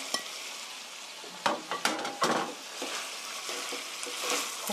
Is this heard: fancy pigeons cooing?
no